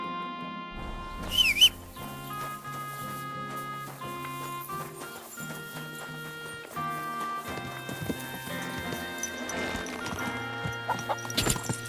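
Hooves clip-clop steadily beneath layered music in Kingdom Come: Deliverance II, with a short neigh near the start, all fairly quiet.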